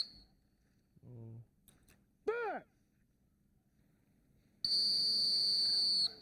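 A retriever handler's whistle at a Missoula, Montana retriever trial: a sharp blast, then a rising-falling warbled whistle, followed by a loud steady high-pitched tone; faint background noise between.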